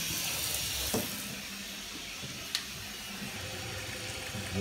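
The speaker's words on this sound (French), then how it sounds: "On va voir l'eau couler le long de la paroi." Water running down a bathtub wall during a leak test: a steady, close hiss of flowing water with a couple of faint knocks, no talk.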